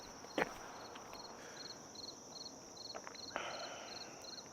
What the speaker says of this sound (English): Hello, Mr. Cricket. Wait, he is loud.